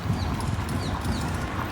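Horse hooves clip-clopping steadily while pulling a calesa carriage on a Sevilla tour, a quiet continuous trotting rhythm under road noise.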